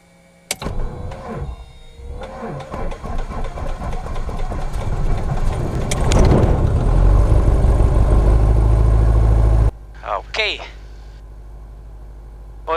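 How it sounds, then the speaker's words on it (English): A light aircraft engine cranks on the starter and catches, rising into a loud close-up rumbling run that steadies before cutting to a quieter idle with faint voices over it. "1 centimeter prime 3 times, 1, 2, 3, and we can engage the starter. Prop clear!"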